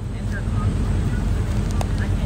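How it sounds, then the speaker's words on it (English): Steady wind roars across the microphone outdoors on a warm day, a constant low rumble filling the whole clip with a few faint higher tones over it. "the wind is blowing, so it's not like terribly hot or anything"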